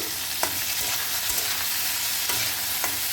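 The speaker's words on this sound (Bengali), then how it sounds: "এই লঙ্কার আচারটা একটু নাড়িয়ে দিচ্ছি" Green chili pickle stirred in a hot frying pan, a constant loud sizzle with a few soft scraping clicks from the stirring spoon, close up with no voices.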